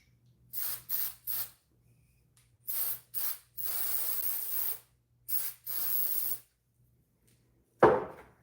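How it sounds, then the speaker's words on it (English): WD-40 lubricant sprayed in several short hissing bursts and a few longer steady blasts, close and loud with pauses between them, ending with a brief clunk. "Let me try a little bit of the old WD-40."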